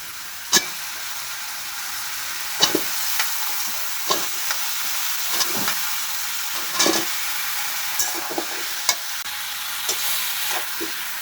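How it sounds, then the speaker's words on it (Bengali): Chopped teasel gourd (kakrol) sizzles steadily in hot oil with cumin, garlic paste and large fish, with repeated scraping stirs of a spatula cutting through the frying at close range. "তারপরে দিয়ে দেব কেটে রাখা কাঁকরোল"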